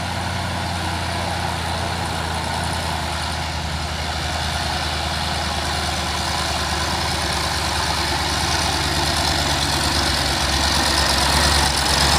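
A tanker truck engine drones steadily on a hill climb at Bukit Kodok, a loud, continuous low rumble that builds slightly toward the end, with no talk over it.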